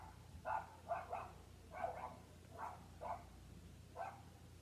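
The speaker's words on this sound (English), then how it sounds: "The dogs be barking." A dog barks repeatedly, about seven or eight short woofs in an irregular rhythm, faint and somewhat distant over a quiet low hum.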